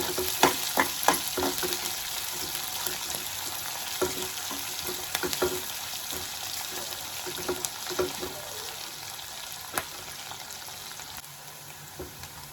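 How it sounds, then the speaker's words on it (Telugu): Onions frying in hot oil alongside green chillies, a steady close sizzle broken by frequent sharp crackles and pops across the whole stretch, with no talking. "లైట్ గోల్డెన్ బ్రౌన్ వచ్చే వరకు వేయించుకోవాలి"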